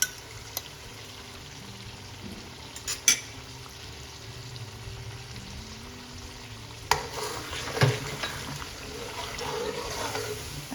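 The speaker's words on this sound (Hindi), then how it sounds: "अच्छे से अब इसको मिक्स करेंगे।" Aloo methi with curd is stirred in a pan, giving soft scraping and wet sloshing with a faint sizzle, quieter at first and then a louder burst of stirring toward the end, without any talking.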